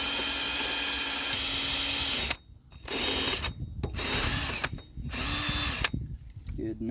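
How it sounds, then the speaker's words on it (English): Wire brush spinning on a drill scrubs the axle rotor mating surface of a 1991 third-generation Chevrolet Camaro during a brake service, loud and close, running in several whirring bursts separated by short pauses, with brief talk in between. "I just use a wire brush on a drill."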